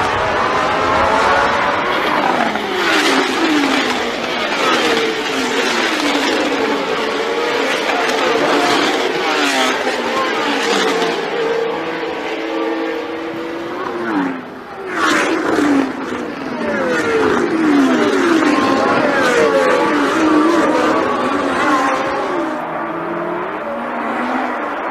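Formula 1 cars snarl off the line at a race start that Didier Pironi leads away. A dense pack of high-revving engines screams loudly and continuously, with overlapping pitches climbing through the gears.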